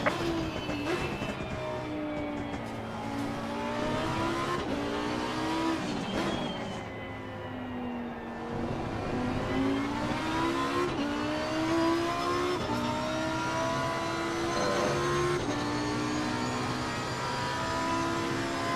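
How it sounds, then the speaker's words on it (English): A Lamborghini Super Trofeo race car engine at Silverstone in a racing game howls loudly and continuously, its pitch climbing through the gears and dropping on upshifts and braking in repeated waves. "A very angry car."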